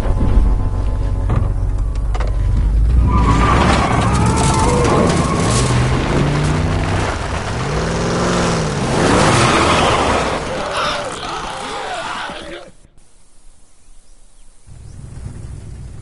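A truck engine runs in the video game The Last of Us, a loud, rough rumble that holds steady under shouting voices and bursts of action noise, then drops away suddenly near the end.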